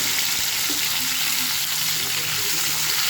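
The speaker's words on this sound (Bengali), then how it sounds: "এবার চিংড়ি মাছগুলো দিয়ে দেবো" Prawns frying in hot oil in a wok for a Bengali mustard prawn curry, a loud, steady, dense sizzle running without a break from start to finish.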